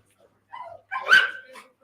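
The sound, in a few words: excited dog barking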